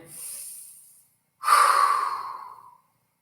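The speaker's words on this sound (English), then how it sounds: "Breathing." Heavy breathing during an upper-body stretching workout: a softer inhale followed, after a short pause, by a louder, longer exhale, close and alone with no talk.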